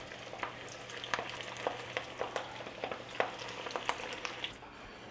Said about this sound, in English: now that oil has come back up in temperature, which means I get back to frying